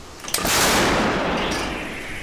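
A single heavy boom of an Italian self-propelled artillery gun firing nearby, a sharp crack followed by a long, roaring rumble that slowly fades.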